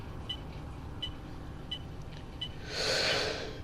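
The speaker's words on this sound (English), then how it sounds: "Yawning." A man gives a breathy yawn near the end, a short swelling exhale rising over the steady low hum of a bus simulator game.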